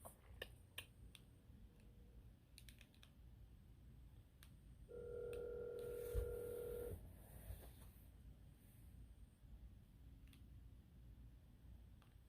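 A telephone call being placed: faint dialing tones and clicks, then a short steady ring tone for about two seconds, quiet overall in a still room.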